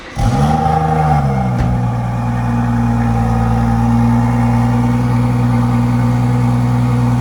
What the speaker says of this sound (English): just going to start the car for me